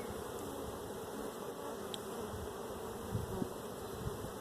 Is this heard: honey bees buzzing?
yes